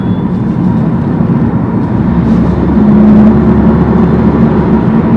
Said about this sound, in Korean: 엔진이 돌기 전까지 전기 모터가 윙 하면서 차를 밀어주는 그 느낌은